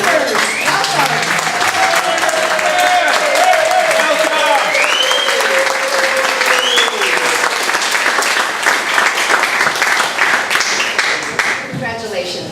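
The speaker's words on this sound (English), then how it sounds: "And let's have a round of applause for our newest members." A meeting audience gives a sustained round of applause for new club members, loud dense clapping that carries on for several seconds before tapering off, with a voice speaking over it.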